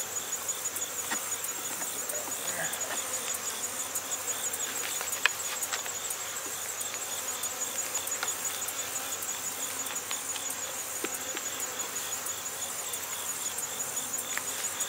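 A honeybee colony hums steadily throughout a fall hive inspection, the bees foraging on goldenrod; a dense, continuous buzz holds at even loudness close by with no talking.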